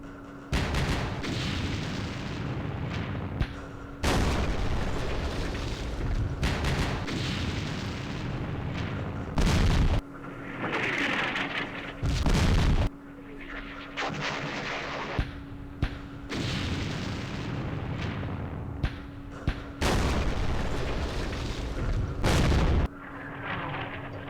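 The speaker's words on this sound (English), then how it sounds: "French artillery." French artillery fire at Dien Bien Phu in a Vietnam-era strategy war game: a series of heavy, loud booms and blasts, several of them separated by short gaps, over a steady background hum.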